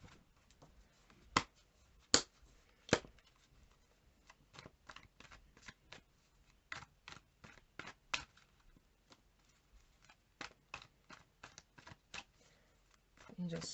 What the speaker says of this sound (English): let's shuffle these again.